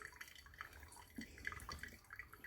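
Water dripping through a pour-over coffee filter, soft scattered drips and trickles close by, quiet and uneven over a low room hum.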